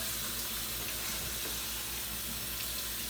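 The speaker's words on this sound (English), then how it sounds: "Rinse them, rinse them, rinse them. Just rinse them out real good." Tap water runs steadily into a sink as food is rinsed, a constant close splashing hiss that holds unbroken throughout.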